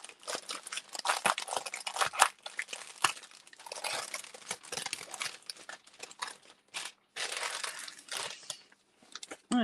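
Plastic packaging crinkles and crunches in bursts during the unboxing of a diamond painting kit, close and loud, with brief pauses between handling.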